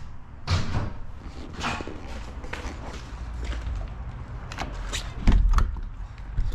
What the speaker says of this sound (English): Door seems to open and close without any issue.